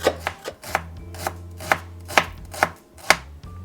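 A large onion is finely chopped with a knife on a board, about a dozen crisp, evenly spaced chops close by, with no talking.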